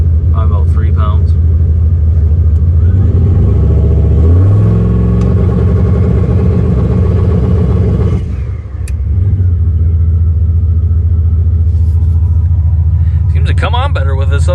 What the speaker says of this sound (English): Figure we test the TRANSBRAKE.